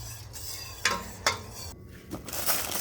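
A utensil stirring turkey brine in a pot, with a few distinct scraping knocks against the pot wall spaced about half a second apart over a low background hum.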